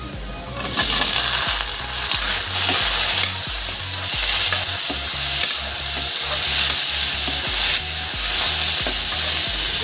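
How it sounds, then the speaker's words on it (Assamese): Tomatoes hit a pan of frying onions and spices, the sizzle jumping louder after a quiet start, then a busy stream of spoon scrapes and knocks over steady hissing, close by. "আৰু এতিয়া মই বিলাহীখিনি দি দিম"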